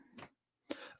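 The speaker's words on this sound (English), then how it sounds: "a bit of a cough still" Two short, quiet coughs separated by a brief pause, close and soft.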